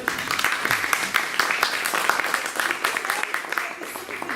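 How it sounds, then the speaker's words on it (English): Audience clapping during a comedy performance, a scattered but steady patter of hands with distinct claps, accompanied by talking and laughter in the room. "You're not allowed to clap in the middle."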